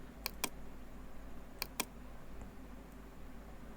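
Keys pressed on a computer keyboard, two pairs of sharp quick clicks over a faint steady room hiss, close and clear, no speech.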